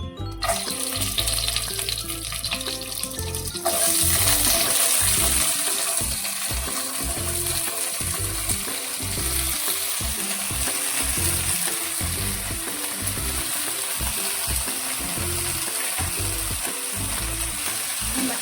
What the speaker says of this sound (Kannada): ಈ ಮಸಾಲೆ ಪದಾರ್ಥಗಳನ್ನೆಲ್ಲನೂ ಆಯಿಲಲ್ಲಿ ಸ್ವಲ್ಪ ರೋಸ್ಟ್ ಮಾಡ್ಕೊತೀನಿ